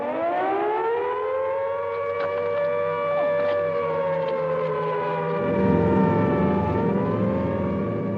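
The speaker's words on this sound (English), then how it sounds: "at about 10 o'clock, the first sirens sounded" An air raid siren wails in a long, sustained rising and falling tone, loud and continuous, joined by a rumbling engine-like noise toward the end.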